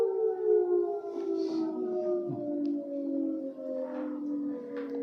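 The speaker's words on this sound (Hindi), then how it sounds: "सायरन का समय लगभग 30 सेकेंड का होता है ना?" A civil defense siren sounds the seven o'clock signal, a long steady wail with slowly gliding tones that carries on continuously at a distance, with faint outdoor noise beneath.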